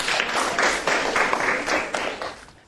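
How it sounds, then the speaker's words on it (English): A group of children claps together, producing steady, dense applause that fills the whole moment at close range before tapering slightly at the end. "Can everyone give him a big clap?"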